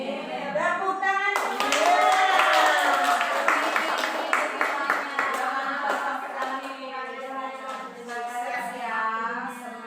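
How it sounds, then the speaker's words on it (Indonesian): Audience clapping at a teachers' training session on positive school culture, quick hand claps heard under and between continuous talking. "Tepuk tangan"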